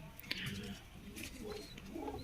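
A pet pigeon at a pigeon club cooing softly, low murmuring coos with faint chirps in the background, quiet and close.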